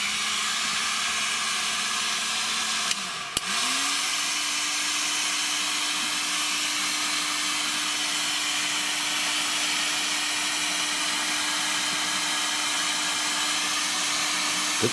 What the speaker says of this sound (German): dafür nehme ich mir jetzt meine Heißluftpistole, aber eben wahrscheinlich nur auf 1